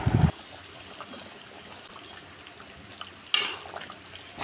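Water pours into a pot of chicken curry, a brief splashing gush at the start and another near the end, with a soft trickle in between and no talking.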